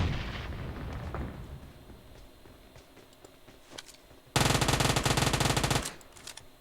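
Automatic gunfire in the PUBG Mobile video game: scattered distant shots early, then a loud sustained burst of rapid fire lasting over a second near the end.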